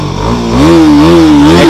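TVS Apache RR 310 motorcycle engine revved on the throttle, a loud, close rumble climbing to a sustained higher pitch with slight wavering, no talking.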